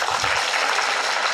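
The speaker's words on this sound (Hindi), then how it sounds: "तालियां।" A brief burst of audience applause at an outdoor community gathering in Kotdwar, a steady hissing wash of many hands clapping at moderate level with no speech over it.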